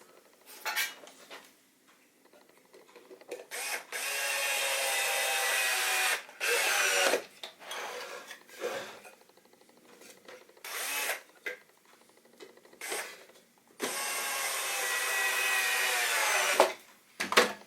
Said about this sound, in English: these longer screws will pull themselves into the wood